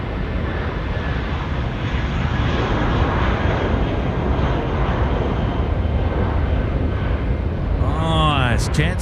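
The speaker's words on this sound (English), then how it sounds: "Beautiful departure. Taking advantage of the headwind, getting up early." A Jetstar airliner takes off at Auckland Airport, a loud sustained broadband engine roar at a distance with a faint whine rising near the end, while a voice talks over it.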